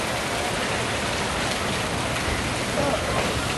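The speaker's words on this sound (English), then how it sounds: "It's pretty cold, raining." Steady rain falls on a cold, wet day, a dense even hiss of drops hitting surfaces throughout, close and continuous, with no voices breaking through.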